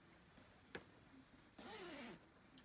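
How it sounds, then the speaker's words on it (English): Zipper on the back of a laundry bag for RV or small-space use being pulled open partway, one quiet rasping zip lasting about half a second after a small click, faint and close. "You can unzip it about halfway."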